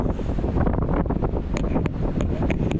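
Rough wind buffets the microphone during a bike ride in Quezon Province, a steady, loud rumble with no voices.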